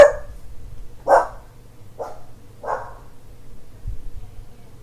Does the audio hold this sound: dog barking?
yes